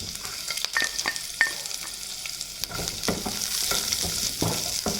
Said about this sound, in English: Have to fry this until the onion become transparent.